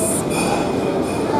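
A metro train runs in Mauritius on the way to Port-Louis, giving a brief, steady rumble with a hissing, rattling edge that stays close and even throughout.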